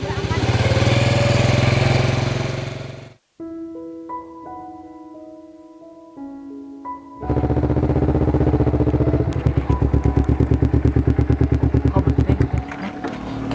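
A loud motorcycle engine drones, breaks off for a short melodic musical interlude, then returns with a rapid, rattling engine pulse close by.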